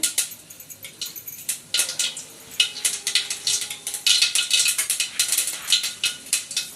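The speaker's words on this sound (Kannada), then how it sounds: "ಈಗ ಎಣ್ಣೆ ಕಾದಿದೆ ಸಾಸಿವೆ ಹಾಕಿದ್ದೀನಿ ಸಾಸಿವೆ ಪಟ ಪಟ ಆದಮೇಲೆ" Mustard seeds crackling in hot oil, tempering for an onion gojju: a dense scatter of sharp, high popping crackles, close and fairly loud, coming in quick uneven bursts.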